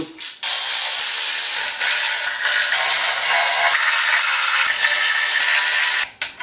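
A ratchet runs down the head bolts on a BMW E36 cylinder head in a workshop, making one loud, continuous buzzing whir close to the mic with brief stops at the start and end; no voices.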